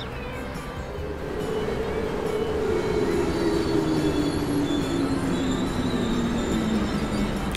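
A train pulling into Salzberg main station in Transport Fever, its low rumble swelling as it nears, with a drawn-out wheel squeal sliding steadily downward in pitch and a continuous rolling clatter, close and loud.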